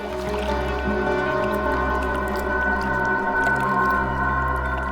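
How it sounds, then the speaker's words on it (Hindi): Constant watery gurgling and rushing with tonal streaks and a low drone, sounding muffled and distant like running water heard through a phone line. "पानी की आवाज आ रही है सर"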